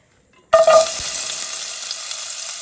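Silence breaks as onions hit a hot pan with a sudden loud burst of sizzling, settling into a steady close hiss of frying with no voices.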